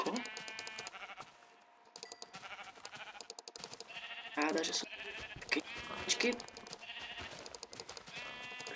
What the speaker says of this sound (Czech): hele ovce